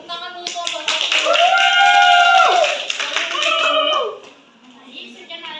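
A classroom of students claps for a student group during a chemistry lesson, the claps mixed with children's loud cheering voices for a few seconds before fading.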